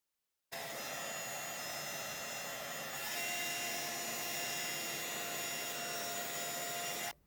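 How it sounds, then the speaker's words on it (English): A heat embossing tool blows hot air over white embossing powder stamped in Versamark ink for a handmade card, giving a steady, loud, continuous whir that runs unbroken for about seven seconds before switching off. "And then I'm just going to heat emboss that in white."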